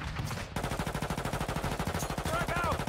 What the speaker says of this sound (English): you're getting shot. You just got sniped.